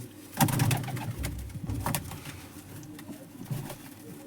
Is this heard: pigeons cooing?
yes